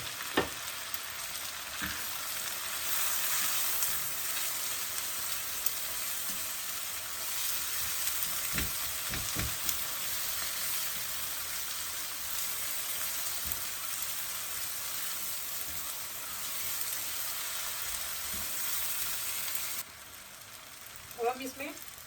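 Tomatoes and spices fry in a pan for chicken achar gosht, giving a steady broadband sizzle throughout with occasional stirring clicks and scrapes, fading slightly near the end.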